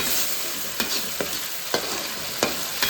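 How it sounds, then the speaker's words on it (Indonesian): Anchovy sambal with eggplant and egg being dry-fried in a pan, a steady loud sizzle broken by a few sharp scrapes of stirring at regular intervals, close up with no talk. "Ini kita masak dulu sampai benar-benar matang. Ini dia, agak digongseng sedikit-sedikit ya, supaya tidak gosong."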